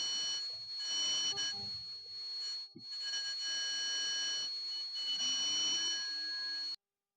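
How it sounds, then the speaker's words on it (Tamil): A small homemade fire alarm buzzes continuously with a piercing electronic tone, briefly dipping once, then cutting off abruptly near the end. "இப்போ நமக்கு ஃபயர் அலாரம் சக்ஸஸ்ஃபுல்லாக ஒர்க் ஆகுது."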